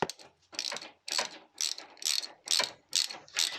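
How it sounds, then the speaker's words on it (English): A ratchet wrench undoes the radiator brackets on a Vauxhall Astra MK4 during a gearbox and clutch change, giving about eight quick, close clicking bursts in steady rhythm with short pauses between strokes, and no talking. "we're just undoing the radiator brackets now before we have to mount it up somewhere"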